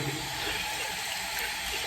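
Very warm water running from a tap to rinse a straight razor, a steady hissing splash, faint and alone.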